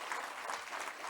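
Steady applause from a crowd at a Korean awards ceremony, dense clapping that holds at an even level throughout with no pauses.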